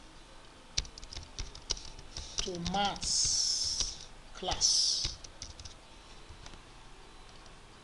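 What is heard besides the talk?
typing on a computer keyboard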